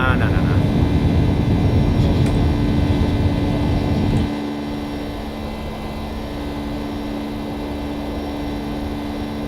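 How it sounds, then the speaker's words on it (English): Boeing 757 engines droning steadily in the X-Plane 11 flight simulator, a loud broadband roar that drops to a quieter, lower hum partway through and holds there to the end. "You are hearing a plane right now?"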